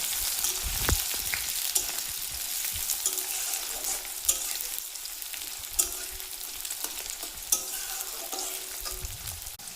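Chopped onion frying in mustard oil in a pan for a spicy Bengali lote fish curry, with a steady close sizzle and a few sharp clacks of a spatula stirring, no talking.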